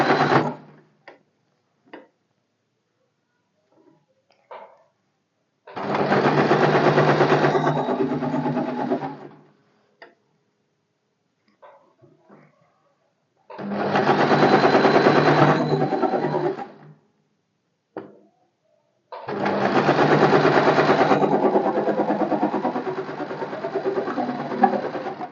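Sewing machine stitching a lined katori blouse, running in three bursts of a few seconds each with a steady rapid whir, separated by quiet gaps with small clicks of handling fabric, close and loud.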